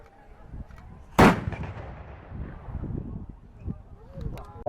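Bronze cannon fired at a medieval castle show, a single sharp booming blast followed by a decaying rumble, with crowd noise and voices around it.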